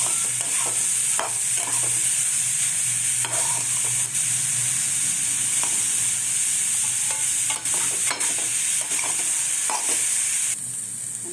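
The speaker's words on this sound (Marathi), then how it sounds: "आता त्यात टाकणार आहोत आपण पनीर परत मिक्स करून घ्यायचं" Paneer being stirred into a vegetable mixture in a hot pan, a loud continuous sizzle with scattered scraping and stirring taps throughout, close and steady.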